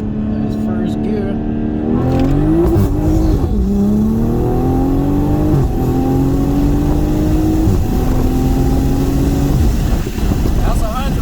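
MK5 Toyota Supra with a big turbo (Pure 800) accelerating hard through the gears, its engine note climbing in loud rising sweeps broken by brief dips at each shift, close and sustained.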